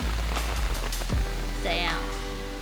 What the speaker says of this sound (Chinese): 我30分钟前才称赞它的天气，结果现在风大雨大